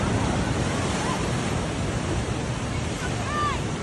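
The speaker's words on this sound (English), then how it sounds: "We got a big wave" Big ocean waves crashing in heavy surf, a continuous roaring wash with wind buffeting the microphone.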